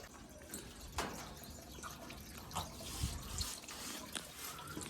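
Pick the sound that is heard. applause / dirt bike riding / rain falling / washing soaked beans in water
washing soaked beans in water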